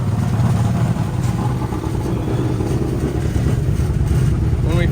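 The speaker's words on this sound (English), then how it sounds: "The mufflers are completely blown out of this thing." A 1965 Ford Mustang's 289 V8 idles loud and close with blown-out mufflers, a rough, steady low rumble with a slight clatter throughout.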